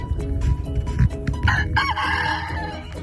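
Chickens near a homemade brooder clucking in low busy chatter, then a loud rooster crow rising over them, all close by.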